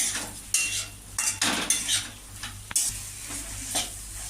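Metal spoon scrapes and clatters against a pan in irregular strokes while a paste of ground whole cumin, coriander and dried red chili sizzles steadily underneath, close and fairly loud.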